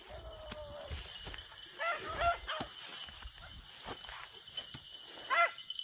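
A pack of ten hunting hounds bay and yelp in short bursts in the distance during an evening run, faint over an outdoor hiss.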